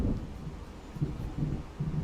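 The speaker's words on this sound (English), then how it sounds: "It seems there's a storm coming." A thunderstorm rolls in the Alan Wake video game: low rumbles of thunder swell and fade several times over a constant windy, rainy wash, with no voices.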